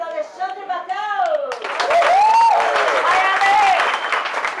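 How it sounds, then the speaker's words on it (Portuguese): After a brief spoken line, a crowd at a lecture on legislation and ethics breaks into sustained, loud clapping that continues to the end. "Vamos aplaudir Alexandre Batel!"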